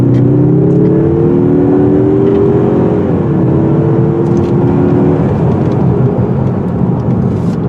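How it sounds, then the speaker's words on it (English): A 2021 Mazda 3 Hatchback Turbo accelerates as its turbo comes in, with a loud, steady engine drone and rising tones that shift as the car gears up, all under heavy road and wind roar. "Once that turbo kicks in, there we go."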